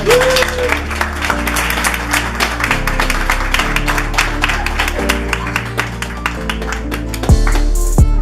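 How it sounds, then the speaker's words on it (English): A room of people gives a round of applause to a departing colleague receiving a thank-you gift, steady clapping over a sustained musical background for most of the span, ending in a brief louder burst. "shall we just give her a big round of applause?"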